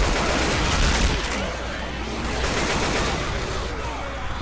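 Rapid video-game gunfire in a mall setting, a dense continuous fusillade of overlapping shots held loud and close for the whole stretch.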